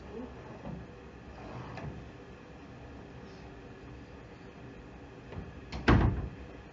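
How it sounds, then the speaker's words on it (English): An office door closed for privacy in a quiet mediation room; low room hiss and faint shuffling lead to one sharp, close thud near the end. "I'm going to close this door for a little more privacy."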